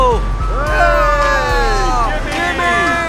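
Ice cream truck music playing outside, a bright, warbling jingle with gliding tones over crowd babble and general commotion, fairly loud.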